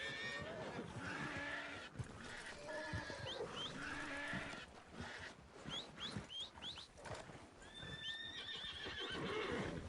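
Horses in the Red Dead Redemption 2 Online video game neigh and whinny several times in a Canadian wilderness setting, with snorts and hoof clip-clops in between, clear and fairly close.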